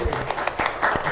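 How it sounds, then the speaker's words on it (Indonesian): A brief patter of clapping from a small audience at a storytelling competition final in Jakarta, uneven and short-lived. "Kita berikan tepuk tangan deh."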